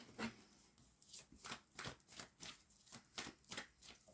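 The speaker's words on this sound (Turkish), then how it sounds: "3 kart daha çekelim sizler için." Tarot cards are shuffled by hand in a steady rhythm of about a dozen quick riffling bursts, soft and close, with no talking.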